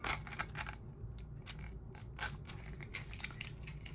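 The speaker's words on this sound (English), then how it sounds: "we're going to cut this piece off because we don't need it" Scissors snip through transfer tape with a quiet string of close, crisp cuts and soft crinkling, faint and steady, while trimming excess from spider-web striping on a Halloween tumbler.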